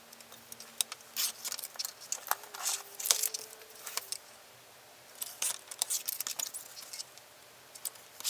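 Scissors cut out paper collage figures in short, irregular bursts of snipping and crisp paper rustling. The sound is close and fairly quiet, with brief pauses between cuts.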